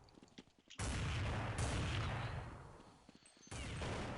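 Gunfire in Counter-Strike 1.6, a loud sustained burst of shots that starts abruptly, eases slightly and then surges again near the end, with no talk over it.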